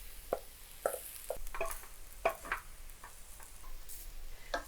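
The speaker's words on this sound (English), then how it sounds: "I'm just going to stir in the pasta at this point." Pasta with fresh herbs is stirred in a pan off the heat, giving a quiet series of spaced scraping and clinking utensil strokes over a faint background hiss.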